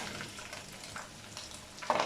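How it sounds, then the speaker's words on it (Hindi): Onions frying in hot oil for chicken biryani, a soft steady sizzle with faint stirring scrapes, brief and close, a sharper crackle near the end. "अब इसी ऑयल में हम लोग प्याज डालते हैं"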